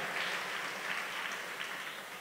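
An audience claps to welcome arriving guests at a gathering, a steady wash of applause heard at moderate distance with no talk over it.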